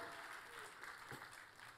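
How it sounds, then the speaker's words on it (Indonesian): A church congregation applauds in a continuous, fairly faint wash of clapping, with a voice briefly audible over it. "Berikan tepuk tangan yang paling meriah bagi Allah kita."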